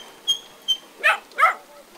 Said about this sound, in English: Oh, doggy, no barking.